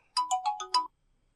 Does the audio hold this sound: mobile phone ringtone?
yes